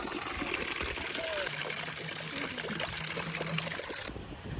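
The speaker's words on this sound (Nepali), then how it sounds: "यहाँ चाहिँ पानी थाप्ने रहेछ यहाँ पानी थाप्छ अरे" Water runs steadily at a water-filling tap in Gatlang village, Nepal. It makes a continuous, close-up rushing trickle that lasts the whole stretch.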